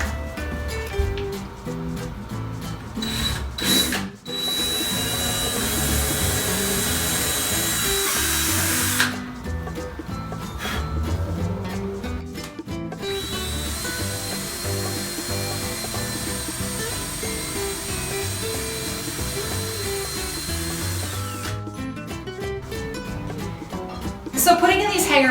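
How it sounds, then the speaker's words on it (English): A power drill bores into a wall stud for a floating ledge shelf, whirring loudly in long continuous runs broken by brief pauses, close to the microphone. "I'm going to drill in."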